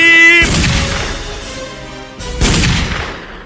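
Two loud gunshots about two seconds apart, each a sharp blast followed by a decaying echo.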